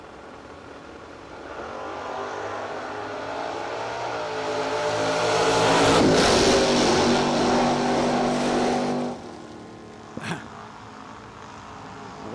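Drag racing cars, a Vega and a Camaro, accelerating hard down the track. The roar builds to a loud peak midway, then fades as they pass into the distance, and a short sharp noise follows near the end.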